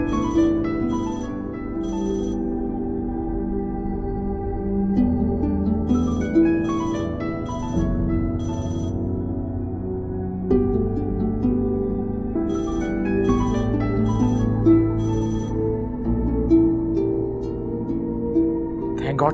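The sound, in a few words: telephone ringing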